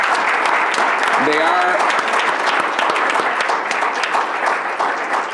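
Sustained applause from an audience at a Rochester Board of Education business meeting, dense steady clapping throughout, with a brief voice speaking over it partway.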